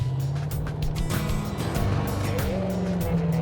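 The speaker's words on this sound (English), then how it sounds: "That hopefully does burnout." Super Camaro revving hard in a burnout, a loud continuous engine drone with rising and falling pitch and hints of tire squeal, steady and close throughout.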